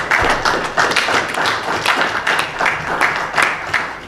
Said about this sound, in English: Our team, Accra Lions and BBNE Gold Stars, I think that they deserve a clap.